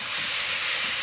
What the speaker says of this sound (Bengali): জাল দাউ দাউ করে জ্বলছে